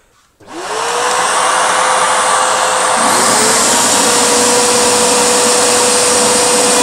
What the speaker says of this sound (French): Je vais quand même mettre l'aspirateur.